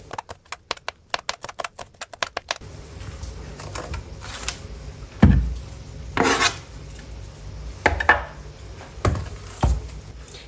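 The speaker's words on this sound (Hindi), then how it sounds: "दो यहाँ पे मैंने ग्रीन चिली ली है, इनकी कटिंग कर लेंगे।" Green chillies chopped on a board with a kitchen knife: a quick, regular run of crisp close chops, then slower scraping and knocking sounds with a few louder clatters.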